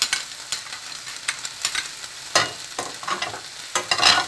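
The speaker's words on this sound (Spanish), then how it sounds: "Seguimos igual aquí batiendo para que los sabores se concentren y se siga cocinando la cebollita" Onion and garlic cook in a pot for lentils with bacon as a utensil stirs them, sending out bursts of sizzling and scraping strokes at an uneven pace, close up and fairly loud.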